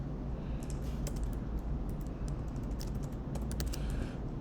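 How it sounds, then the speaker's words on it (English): Rapid clicking of computer keyboard keys in irregular clusters, close and moderate in level over a steady low background hum. "Let me type this up a little bit."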